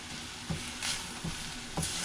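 Onions, peppers and sofrito sizzle steadily in a hot pan, a continuous close frying hiss broken by a few soft stirring scrapes at regular intervals.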